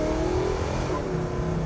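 A 1970 Dodge Super Bee engine revs loudly and close, a throaty rising and falling exhaust note that holds for under two seconds with no talking.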